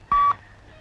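A single short electronic tone from a telephone keypad being dialed sounds once, clear and close, then cuts to quiet room noise.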